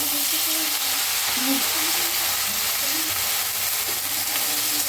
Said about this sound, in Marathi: मुग्याला आता छान भाजूया